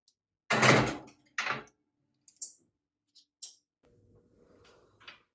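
An oven door in a home kitchen is opened and shut during baking, with a couple of solid clunks followed by fainter clicks and light handling noises in a quiet room.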